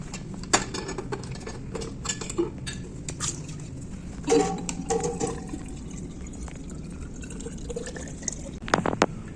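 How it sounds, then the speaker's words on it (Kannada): Water pours into a bottle at an office building, a soft running stream broken by small clinks and knocks, with faint voices nearby. "ಇದು ನನ್ನ ಬಾಟ್ಲಿ ಇಲ್ಲಿದೆ, ವಾಟರ್ ತುಂಬಿಸ್ಕೊಂಡು ಹೋಗೋಣ ಒಳಗಡೆಗೆ"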